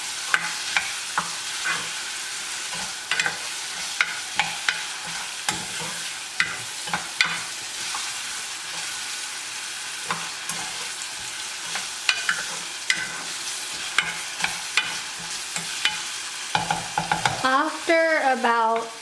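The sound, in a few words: stirring green beans curry frying in a pan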